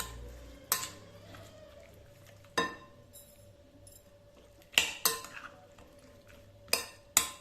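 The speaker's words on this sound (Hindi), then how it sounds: "तो हमने इसको अच्छा सा करना है मिक्स।" A utensil knocks against a bowl while beef marinade with salt and sugar is mixed, giving a few sharp, separate clinks and scrapes spaced a second or two apart, close up over a quiet background.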